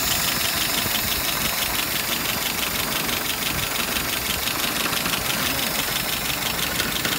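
A car engine idles at about 700 RPM after a run, a steady loud mechanical hum with an even low rumble throughout and no voices.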